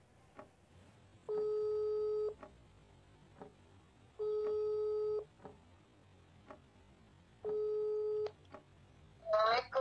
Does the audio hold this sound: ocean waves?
no